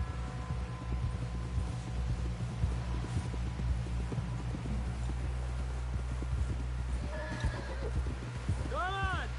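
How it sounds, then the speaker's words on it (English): Horse hooves clip-clop at a walking pace in Red Dead Redemption 2 while a horse whinnies near the end, under steady low background noise and some talk. "Someone help John down off this horse."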